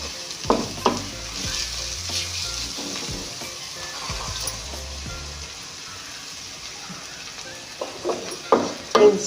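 Two eggs fry in a pan of spiced, chili-seasoned mixture for a drumstick-leaf egg curry, giving a steady close sizzle with occasional stirring and scraping sounds and no talking.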